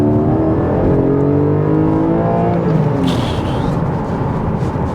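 Porsche Cayman GTS 4.0 flat-six revving hard in second gear on an open road, a loud rising engine note heard from the cabin, easing off after a few seconds as the tone drops.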